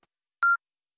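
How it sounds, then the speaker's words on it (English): A single short telephone dialing tone in the Deep Fog video game, a clean electronic beep lasting a fraction of a second against silence. "Dialing."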